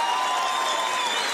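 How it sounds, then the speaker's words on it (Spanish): A short stretch of steady crowd applause at a televised event, a continuous wash of clapping with a faint tonal hum beneath it and no individual claps standing out. "Un aplauso para el maestro,"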